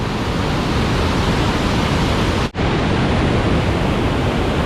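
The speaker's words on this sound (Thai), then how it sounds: "นี่เป็นบรรยากาศน้ำตกด้านลูกเนี่ยน้ำตกแห้งขนาดพี่น้องเลย" Tat Sae waterfall at Chiang Ngoen, Luang Prabang, running low in the dry season, gives a steady, loud broadband rush of falling water that holds constant throughout apart from one brief dropout midway.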